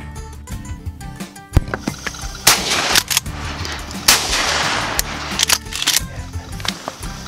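Gunfire from a dove hunt outdoors: several loud, sharp shots in an irregular burst, some close together, with brief rustling and faint background noise between them.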